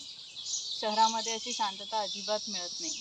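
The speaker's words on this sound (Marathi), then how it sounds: "पक्ष्यांचा किलबिलाट आहे." Steady high-pitched bird chirping and insect-like trilling runs throughout among coconut trees in Kinale village near Aronda, Maharashtra, while a person talks in the foreground.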